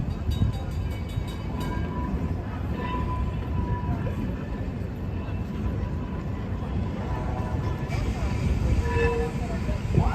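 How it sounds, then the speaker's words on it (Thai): Tram running through Taksim Square in Istanbul, a steady rolling rumble with faint metallic squeals and a brief horn-like tone amid street bustle and scattered voices. "นี่ทุกคนเขามีรถรางด้วยนะคะของทักซินสแควร์"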